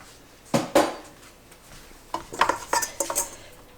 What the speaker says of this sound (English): I'm going to take that dough hook out.